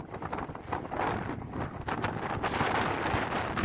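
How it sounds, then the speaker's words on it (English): Wind buffets the open upper deck of a ferry, a steady loud roar of gusts across the microphone with deep rumbling underneath, building slightly stronger toward the end. "Anyone who's brave enough to be on top of a windy deck."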